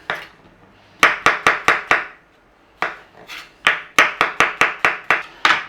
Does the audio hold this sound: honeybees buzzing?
no